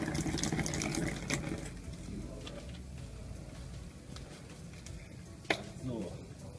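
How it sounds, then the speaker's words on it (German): Water is poured from a tap or container onto Yu-Gi-Oh trading cards, giving a faint, steady splashing trickle with a few soft clicks and handling noises. "wir werden mal hier Wasser draufschütten und schauen, was passiert"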